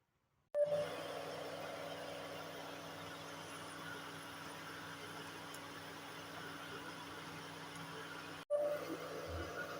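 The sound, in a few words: pressure cooker whistle while cooking lemon pickle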